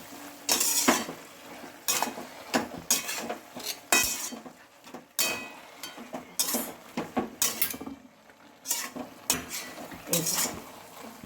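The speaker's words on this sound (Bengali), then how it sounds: "দিয়ে এবার আমি ভালো করে এটা মেশাচ্ছি" Bottle gourd greens (lau shak) stirred with sugarcane jaggery in a pan, a spoon scraping and clinking against metal in repeated uneven strokes with soft sizzling beneath, close and moderately loud with no talking.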